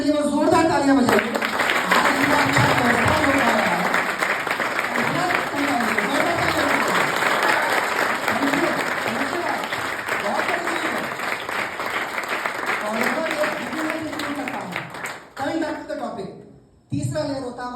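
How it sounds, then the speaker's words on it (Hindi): An audience at an FLP Patna management gathering claps at length, dense and steady clapping that stays loud for most of the stretch, with a voice talking over it before it dies away near the end. "ये एफएलपी पटना मैनेजमेंट की वो जोरदार तालियां बजाइए।"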